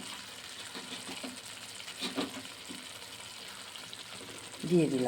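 Minced chicken hits a pan of potato curry (aloo dum) and fries with a steady sizzle, with a louder burst of stirring near the end. A person talks over it.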